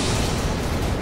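An airstrike explosion in the war strategy game Syrian Warfare, a loud, dense rumbling roar that fills the whole moment with no clear onset or decay, and no talk.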